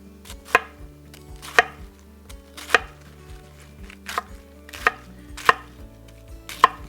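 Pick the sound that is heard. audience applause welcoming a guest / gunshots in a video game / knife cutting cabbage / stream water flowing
knife cutting cabbage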